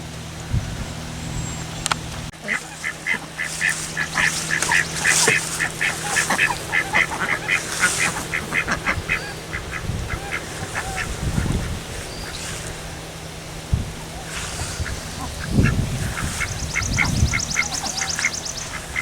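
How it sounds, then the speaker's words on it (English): Ducks quack repeatedly in short, busy bursts, several birds calling over one another at moderate distance, with outdoor background noise and occasional low thumps. "The ducks are very, very happy."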